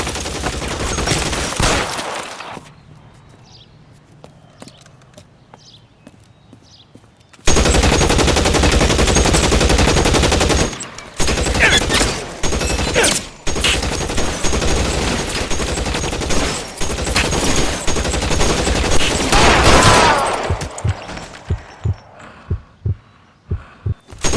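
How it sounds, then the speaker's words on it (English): Gunfire in the video game L.A. Noire, with loud bursts of rapid shots that break off into short pauses and then return in heavy volleys, the last volley fading out near the end. "Shots fired and officers need help at 1452 North Las Palmas."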